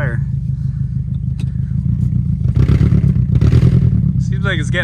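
A $1500 jumping car's engine rumbles and revs, growing louder midway, with a few short bursts of voices near the end.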